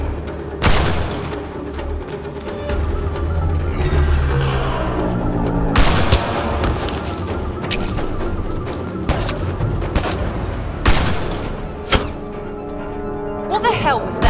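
Gunfire in the Mass Effect Andromeda video game, several sharp loud bursts scattered through a dense, busy battle soundscape with voices shouting over it.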